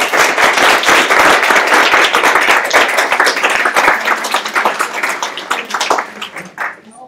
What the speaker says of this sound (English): let's all have a round of applause for Stacy